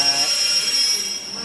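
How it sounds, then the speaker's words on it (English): An electric train passes on the line in Cardiff, a steady loud rushing roar with a high metallic whine from the wheels, close by and fading slightly at the end. "I just saw one of the electric trains go past"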